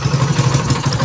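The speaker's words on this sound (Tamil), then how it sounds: "வண்டியை ஸ்டார்ட் பண்ணுறோம்." A TVS XL100 moped engine with an altered I-tech regulator runs loud and close, giving a steady, rapid low putter with a slightly clattery edge.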